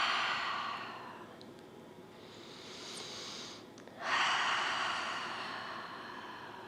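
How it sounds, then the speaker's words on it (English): Slow, close breathing during a yoga flow: a long airy inhale through the nose, then a fuller, louder exhale through the mouth, soft and unhurried, with no talk over it. "A couple more inhales through the nose,"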